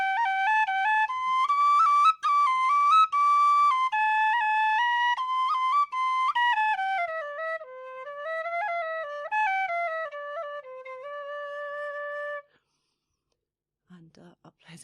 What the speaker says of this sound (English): Listen to what the whistle sounds like